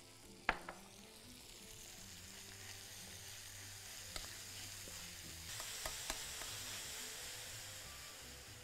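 Ground meat frying in a pan with a little oil or ghee, a quiet steady sizzle with occasional clicks and spatula stirring taps, close and without talk.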